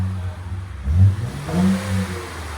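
A 2007 Honda Accord 3.0L V6 with the muffler deleted and two resonators revs twice in quick succession, each a deep, throaty rise and fall, close by with a low rumble between.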